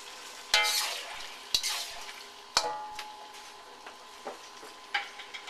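Utensil stirring cornstarch slurry into ma po tofu in a pan, with several sharp scraping clinks spaced about a second apart over a soft background sizzle, close and moderately loud.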